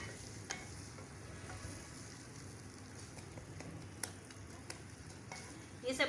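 Chana dal masala with garam masala, coriander powder, salt, tamarind and tomatoes being roasted in a pan, a steady soft sizzle and frying hiss with faint stirring scrapes and a few light clicks.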